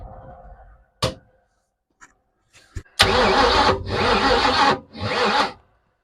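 Rebuilt engine in a footbrake car cranking in short bursts, then catching and running loudly in three rough, roaring spells separated by brief drops, with clicks and a quiet gap before it fires.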